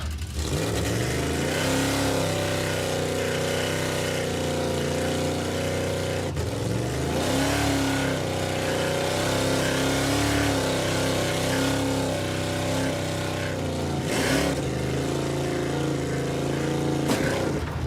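A supercharged big-block Chevy engine in an Impala drag car revs hard and loud on a track, its deep rumbling note rising and falling in sustained pulls across the whole stretch with no talk.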